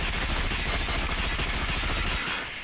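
Rapid automatic fire from an M16 rifle in the mobile shooter Call of Duty Mobile, a loud, dense continuous burst of shots that runs nearly the whole time before cutting off near the end.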